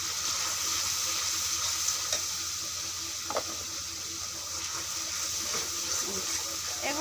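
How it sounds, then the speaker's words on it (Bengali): Turmeric, salt, chili and coriander powder fry in a pan for a spicy chicken curry, a steady close sizzle with occasional scraping and small clinks, and a voice is faint in the background. "এগুলো দিয়ে ভালো করে কষিয়ে নিব মশলাটা, যেন কাঁচা ভাবটা না থাকে"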